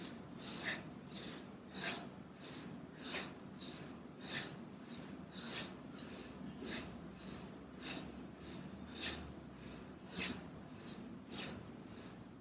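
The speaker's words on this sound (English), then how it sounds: "either breathing out through the mouth or through the nose" Slow, regular yoga breaths, in and then out through the mouth or nose, repeating about every second in a quiet room; each exhale is a soft, airy rush, close and alone with no talking.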